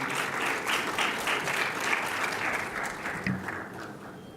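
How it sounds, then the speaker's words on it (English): Steady, dense applause from an event audience welcoming a woman to the stage at a youth innovation forum, sustained clapping that holds at an even level throughout with no talk over it. "With a warm hand clap, let's welcome her to the platform"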